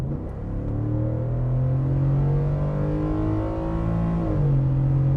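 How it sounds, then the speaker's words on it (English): A 2021 Ford F-150 XLT pickup truck engine hums steadily and then builds in pitch as it revs and accelerates, loud and close, with a deep rumbling exhaust. "Give it one more little exhaust punch here. Drop the hammer here."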